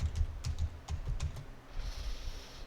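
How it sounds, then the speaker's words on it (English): Quick bursts of keystrokes on a computer keyboard as passwords are entered, close and crisp clicks in a short irregular run, then a pause with faint room hiss. "just typing in the passwords for my audit user"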